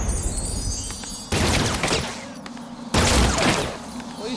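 Gunfire in the video game Batman: Arkham City, heard as a dense volley of shots that starts abruptly, falls back briefly and then returns loud, layered over continuous game noise.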